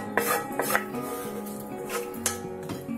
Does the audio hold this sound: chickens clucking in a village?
no